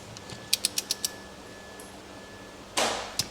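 Torque wrench ratcheting on an engine: a run of five sharp, evenly spaced clicks close by, followed by a longer burst of ratcheting and a final click, with no talk.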